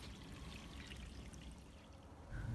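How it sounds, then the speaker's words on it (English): Water pours steadily into a dug hole from an irrigation line whose valve has just been cut out with a reciprocating saw, a soft continuous trickle with a slightly louder gush near the end. "Just cut the valve out using the Sawzall, and it's emptying water into the hole now."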